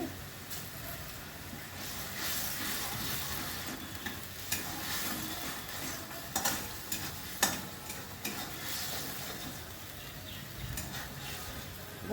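Mustard and poppy seed paste with turmeric frying in a pan while being stirred for a Bengali pabda fish curry; a soft, continuous sizzle with faint scraping and occasional small clicks.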